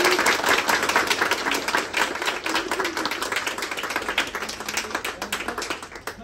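An audience applauds at a festive special-day gathering, a dense, steady patter of many hands clapping close by, holding strong for several seconds and easing slightly toward the end.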